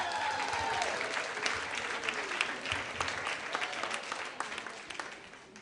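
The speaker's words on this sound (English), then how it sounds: "big round of applause for Stan." Audience applause greets a storyteller taking the stage, a steady, dense wash of clapping that holds for several seconds and slowly thins toward the end, with faint voices mixed in.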